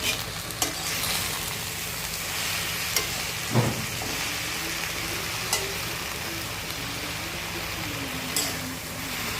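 Food sizzles and is stirred in a pan in a home kitchen cooking by daylight, a steady close frying hiss with occasional scrapes and clinks of the spoon, no talk.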